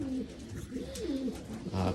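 Modena pigeons coo softly in a community loft, low rolling warbles rising and falling repeatedly, fairly close but quiet, against a steady background hiss.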